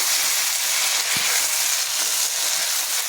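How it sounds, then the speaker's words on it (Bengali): Ginger and tomato paste frying in a pan for a papad curry, a steady close sizzle with a single soft knock of stirring partway through. "আদাটাকে নাড়াচাড়া করে টমেটো বাটাটা দিয়ে দিলাম"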